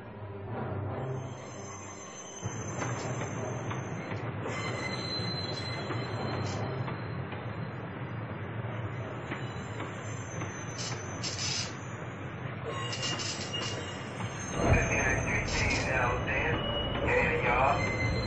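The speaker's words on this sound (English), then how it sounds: "Brown and Walker, bring the train out from 16 track." A train rolls out slowly with steady rumbling and high metallic wheel squeals, while a voice talks over it.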